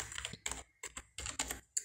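Typing on a computer keyboard while working in AutoCAD: several short bursts of quick key clicks separated by brief pauses, close and fairly quiet, with no talking.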